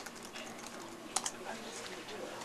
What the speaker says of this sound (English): I just type it in